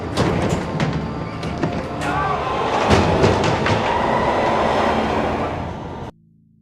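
A subway train in a film scene at an underground station gives a loud, continuous rumble and clatter of wheels and carriages, close by, before it cuts off abruptly.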